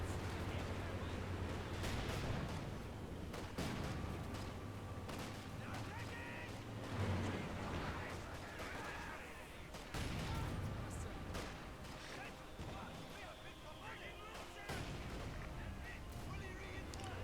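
Artillery shelling in the video game Company of Heroes 2, a rolling barrage of deep booms and gunfire with someone talking over the battle throughout.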